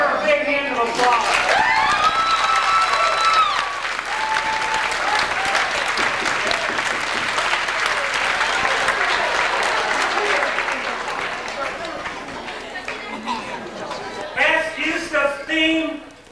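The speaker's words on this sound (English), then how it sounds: "Give her a big hand of applause." Audience applause at a 1994 church stake road show of ward skits in Houston, Texas, for a tiny fairy performer; a sustained crowd clapping with cheers and voices mixed in, thinning toward the end as voices take over.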